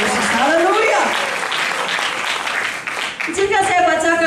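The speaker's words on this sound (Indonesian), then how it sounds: "Kalau mau tepuk tangan bagi aku Tuhan Yesus." Church seminar audience breaks into loud, sustained clapping mixed with cheering voices, continuing throughout and swelling again near the end, with a voice rising over the crowd.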